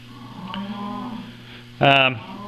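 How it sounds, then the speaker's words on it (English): Cattle moo nearby on a farm, a lower drawn-out call first and then a loud, harmonically rich moo near the end, over a steady low background hum. "will you cows be quiet?"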